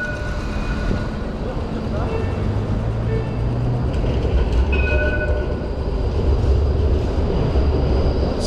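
A crowded Melbourne tram rumbles past close by on a city street, a loud, sustained rolling clatter with squeals of wheels on rails, while traffic noise fills the background.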